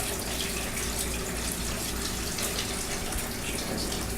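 Water runs steadily into a bowl in a kitchen while chicken stock is being made. The stream is a continuous, even, moderately quiet rush with no talking.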